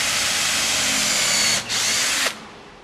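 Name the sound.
power drill drilling pilot hole for floating shelf screw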